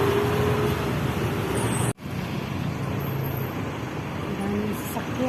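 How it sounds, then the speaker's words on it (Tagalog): Steady roar of road traffic in Kamias, Quezon City, with cars, buses and trucks rolling past continuously near a house destroyed by fire; one brief sharp drop cuts the din before it resumes. "Daming sasakyan."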